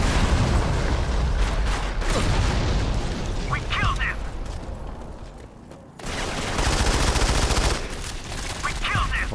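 Gunfire in the Modern Combat 5 video game, loud sustained bursts and booms that cut out briefly mid-way and then resume, with someone talking over the shooting.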